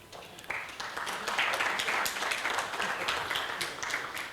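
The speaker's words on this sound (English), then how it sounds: "Another round of applause for him." Applause at the opening session of an annual academic meeting, starting quieter then swelling into full sustained clapping from a seated crowd, steady and moderately loud.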